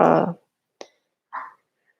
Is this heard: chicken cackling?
no